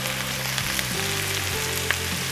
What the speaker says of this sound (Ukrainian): Буквально ще 2-3 хвилини обсмажу сердечка з цибулею